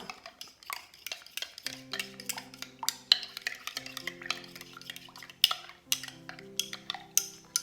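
A spoon stirs crumbled baker's yeast into lukewarm milk in a bowl, making repeated light scraping and clinking taps in an irregular rhythm, close up, with soft sustained music underneath.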